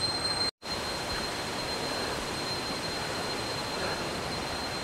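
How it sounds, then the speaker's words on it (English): Cicadas droning in a forest by a temple and waterfalls in Hua Hin, Thailand: a steady, loud, high-pitched insect buzz filling the air, broken by one brief cut near the start. "that noise is from the cicada"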